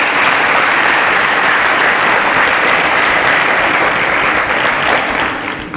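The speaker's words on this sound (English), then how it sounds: "A round of applause for Treasure." A game-show studio audience gives a round of sustained, dense applause for a contestant, a loud and steady wash of clapping that holds throughout and tapers slightly at the end, with no talk over it.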